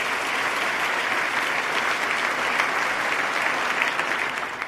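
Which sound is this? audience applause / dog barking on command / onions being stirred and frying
audience applause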